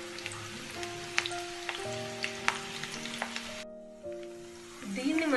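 Onion pakodi frying in hot oil over a medium flame, with a steady crackling sizzle and sharp pops, quieter toward the end before a louder burst of bubbling.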